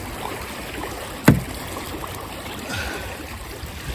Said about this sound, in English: This one-handed kayak paddling.